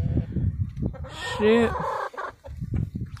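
Backyard hens cluck and squawk close by, a short rising burst of fowl calls between a woman's spoken words.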